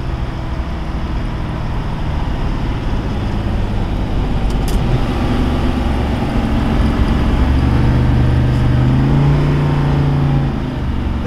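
A 1965 Dodge Coronet 500 Max Wedge on the road, its engine a steady low rumble under constant road and wind noise, with a rising tone near the end as the car pulls harder.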